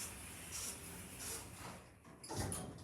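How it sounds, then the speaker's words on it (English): Automatic lift doors at a shopping centre in Bournemouth slide shut, a soft steady whoosh of moving panels ending in a dull thud, heard close inside the car with faint hum around it. "Please mind the doors. Doors closing."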